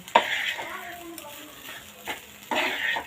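Rice fries in a pan with capsicum, with a few short bursts of sizzling and stirring scrapes separated by quieter gaps, heard close.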